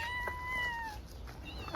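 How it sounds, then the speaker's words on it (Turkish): Several thirsty outdoor cats gather at bowls of water and food set out in hot weather, giving a few short, clear meows close by over a low background hum, with no talk. "Ay, dört tane kedi oldu değil mi?"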